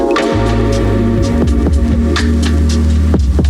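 Electronic drum loop with hi-hats run through Ableton's beats warp mode, punchy kicks and snares over a steady low bass tone and bright hat ticks, loud and continuous with no talking.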